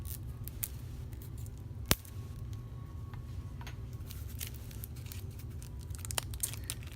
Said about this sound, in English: Get a little scissor here to open these up